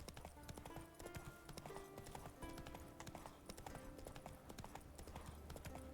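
Roach the horse trotting in The Witcher 3, a quick, steady clip-clop of hooves that stays close and continuous throughout.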